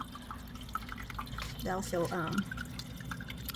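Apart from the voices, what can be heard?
water trickling in a Mufga 12 pod hydroponic growing system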